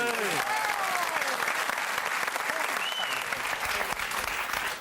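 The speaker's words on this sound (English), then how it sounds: "A round of applause for our shepherd, Cal Wilson." Studio audience applause on a Christmas-themed episode of a music quiz television show, loud, dense and steady for about five seconds, with a few overlapping voices and whoops in the crowd early on.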